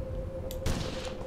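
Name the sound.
gunshots from rifle in Mount and Blade Warband video game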